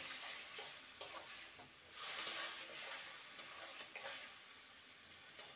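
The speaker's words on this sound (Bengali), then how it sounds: "এবার যে মশলাটা বেটে রেখেছিলাম সেটা দিয়ে দিলাম, ভালো করে কষিয়ে নেব।" Ground spice paste frying with vegetables for a milk bitter gourd dish, a quiet sizzle under intermittent spatula scrapes and light taps against the pan, fairly faint and close.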